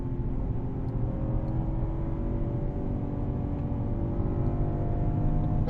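A BMW M4 accelerating out of a corner on the Circuit of the Americas race track, a steady loud engine drone heard from inside the car with road and wind noise throughout.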